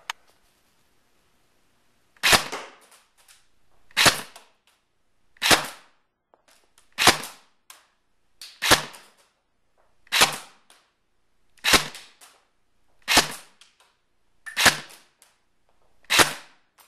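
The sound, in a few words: Echo 1 ASC airsoft carbine firing ten shots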